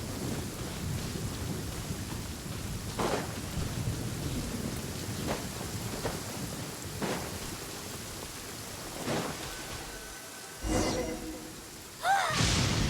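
Steady rain falls with several rumbles of thunder in the video game Genshin Impact, the storm sound fairly quiet and continuous with a few louder thunder swells near the end.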